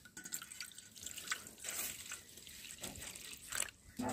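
Water is poured into a bowl of wheat flour, making soft, close drips and small trickling splashes that come in irregular bursts, fairly quiet and alone.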